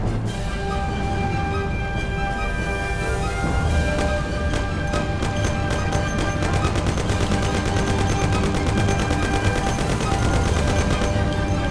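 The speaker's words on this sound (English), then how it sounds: "Take my Thompson! You and Sam shoot them!" Thompson submachine gun fire in the 1930s gangster game Mafia: long, continuous, rapid automatic bursts rattle loudly and close, layered over a dense, noisy backdrop of engine and street noise.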